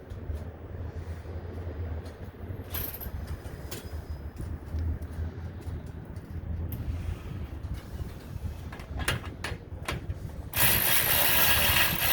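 A drain bolt is threaded into a Banks Ram Air differential cover on a Ford F-250, producing a quiet ratcheting tool noise with clicks and mechanical rattles, then a louder hiss near the end.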